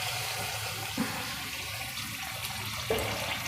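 Leftover water from boiling pigeon peas is poured into a Gujarati curry with muthiya dumplings: a brief, quiet splash and trickle of liquid with a soft second pour near the end.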